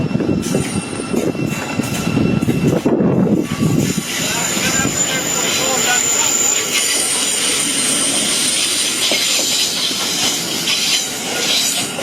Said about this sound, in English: This train's departing for Bedford